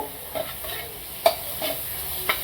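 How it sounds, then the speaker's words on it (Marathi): Whole masoor lentils stirred and sautéed in a pan for a simple home-style masoor bhaji, with a steady soft sizzle broken by a few scraping spoon strokes against the pan. "आणि आता हा मसूर आहे अख्खा, तो मी असा परतून घेते"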